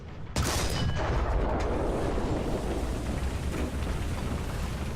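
A burning tank explodes in the video game War Thunder Ground Forces: a sudden heavy blast rolls into a long, crackling rumble that slowly fades while staying loud and dense.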